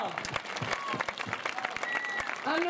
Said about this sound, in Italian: Venite qui, un applauso.